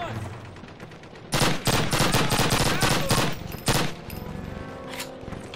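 Loud bursts of gunfire in the Call of Duty video game, with several rapid volleys over a quiet background, then one more shot and fading echoes.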